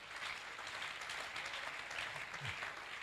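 A church congregation breaks into steady applause during a sermon, a dense even wash of clapping that stays fairly soft and distant throughout, with no voices standing out.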